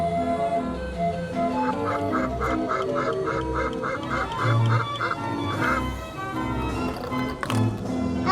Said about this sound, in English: It is a duck.